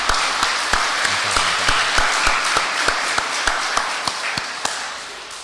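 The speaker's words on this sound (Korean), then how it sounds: "하나님께 영광의 박수 함께 드리십시다" A church congregation claps for the choir during a Sunday service, with dense, even applause that gradually fades, and sharp individual claps standing out over the crowd.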